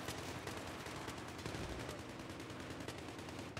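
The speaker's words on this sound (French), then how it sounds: "Je vois qu'il y a pas mal de tirs" Continuous dense gunfire in a first-person shooter game, including an M16 rifle, with overlapping rapid shots and bursts forming a loud, unbroken barrage throughout.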